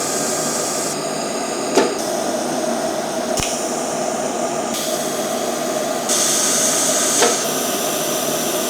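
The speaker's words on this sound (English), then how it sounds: "We're just gonna start tacking stuff up and getting it fit up." Tack welding of turbo manifold pipe pieces held on a jig for a Mazda 323 GTX rallycross car: short bursts of steady crackling hiss that start and stop several times, punctuated by sharp clicks, with no speech.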